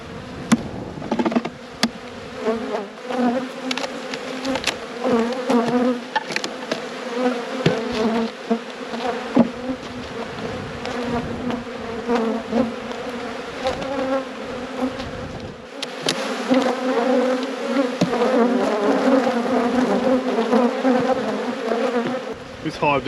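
Honeybees buzz steadily and loudly around an open beehive during a late-season inspection, a dense close drone with outdoor wind, occasional knocks of frames and brief muffled talk.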